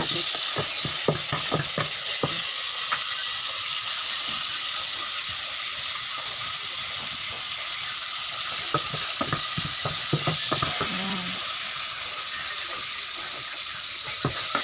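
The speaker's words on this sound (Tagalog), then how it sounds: "nilagyan ko na ng mantika at dito natin ipiprito ang ating tilapia" Tilapia fries in cooking oil in a home kitchen, a steady broadband sizzle running throughout with repeated stirring clatters and scrapes layered on top.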